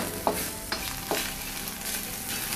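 Bird's eye chilies stir-fry with egg in a hot pan, a soft continuous sizzle broken by a few distinct scraping strokes of the spatula.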